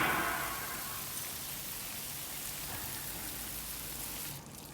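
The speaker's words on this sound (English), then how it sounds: "we can again start the rain back up for another 20 seconds" Steady hissing simulated rainfall in a laboratory setup, even and continuous, close by, cutting off abruptly near the end.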